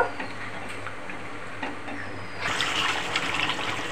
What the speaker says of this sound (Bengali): ঝোলটা ফুটে গেছে, তৈরি হয়ে গেছে শোল মাংস